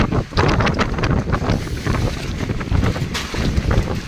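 Strong wind about 27 km/h buffets the microphone outdoors in snowy, freezing weather near minus fifteen degrees, a loud, continuous roaring rush with gusting surges and no speech.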